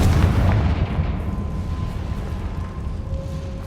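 Confringo fire spell blast in Hogwarts Legacy, a loud booming explosion with a rumbling tail that slowly fades, alone without talk.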